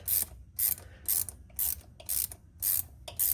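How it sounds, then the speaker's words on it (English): Ratchet clicks tighten a T-bolt hose clamp on the turbo coupler of an R34 GTR Skyline with a V8 swap. Seven short, evenly spaced bursts ring out up close with no talking. "So we're just going to finish off tightening the clamp."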